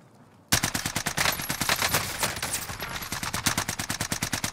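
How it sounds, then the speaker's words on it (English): Rapid automatic gunfire in The Matrix Reloaded video game, a dense string of evenly spaced loud shots starting abruptly after a quiet moment and continuing without pause. "They're shooting at me."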